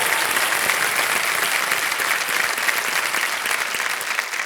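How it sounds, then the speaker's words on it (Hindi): A studio audience on the TV quiz show Kaun Banega Crorepati breaks into loud, sustained applause, a dense, even wash of many hands clapping throughout with no speech over it. "एक बार फिर जोरदार तालियां बजाएं के लिए।"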